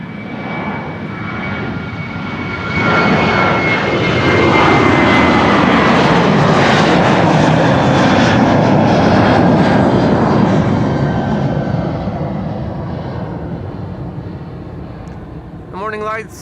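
A KLM jet airliner takes off from Kaagbaan runway 24 at Schiphol, its engine roar swelling loud and broad, holding steady, then fading as it climbs away, with a voice talking over it.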